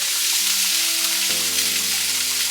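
Cauliflower pieces frying in hot oil, a steady dense sizzle that fills the whole stretch, loud and close with no voices over it.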